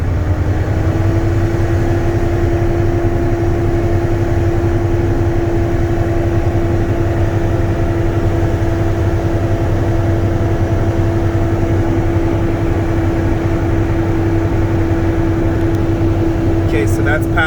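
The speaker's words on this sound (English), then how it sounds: "That took less than 45 seconds, so that's working properly, my air compressor." A truck's air compressor runs steadily, building brake air pressure inside the cab as a continuous drone with a constant tone, close and unbroken for the whole stretch.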